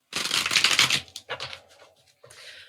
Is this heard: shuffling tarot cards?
yes